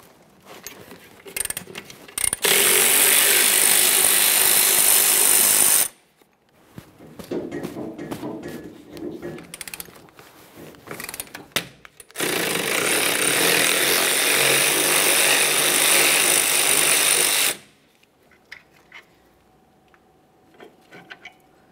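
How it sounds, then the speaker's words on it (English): A power tool or impact wrench runs in two long, loud sustained bursts of several seconds each, with clanking and handling noise between them, while removing 14mm caliper bracket mounting bolts on a 2010-2013 Kia Forte Koup. "We're going to remove the two caliper bracket mounting bolts."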